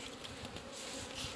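A swarm of honeybees that has just left its hive fills the air with a dense, steady buzzing drone, close and continuous throughout.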